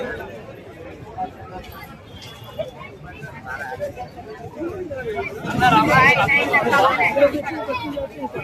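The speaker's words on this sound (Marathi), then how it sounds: "गर्दी किती बघू शकता तुम्ही, खूप गर्दी." Dense crowd chatter and hubbub at a busy fair, with someone talking over the steady babble of voices, which swells louder for a couple of seconds near the end.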